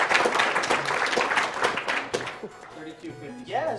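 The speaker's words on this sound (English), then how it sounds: "keep the applause going" A crowd at Awesome Games Done Quick 2014 claps through a Mega Man 9 run. The applause is loud at first and then thins out as voices take over.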